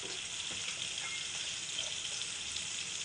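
Malvani masala with turmeric sautéing in a pan for a Konkani-style egg curry, a continuous close sizzling hiss with faint stirring scrapes, no voices.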